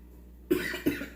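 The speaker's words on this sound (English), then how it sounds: "I ain't coughed all day, now I'm starting to cough." A person coughs three times in short bursts, close and fairly loud, during an evening seafood boil with a spicy sauce, after a moment of near silence.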